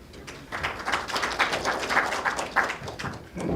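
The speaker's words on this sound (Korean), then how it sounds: "큰 박수로 맞이해 주세요." A seminar audience on IT outsourcing in Vietnam claps steadily to welcome the next speaker; the applause is dense and even, with no talk, throughout the short stretch.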